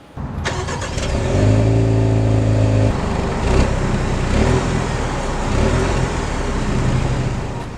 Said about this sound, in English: we've listened to the F-Type in the form of the exhaust note